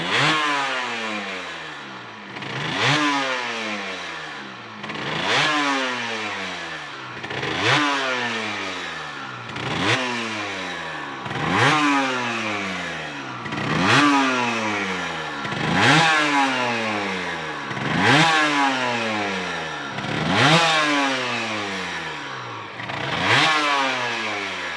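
Derbi GPR 75cc motorcycle engine revved repeatedly in a regular rhythm, about ten rising and falling blips a couple of seconds apart, loud and close with no idle pauses between them.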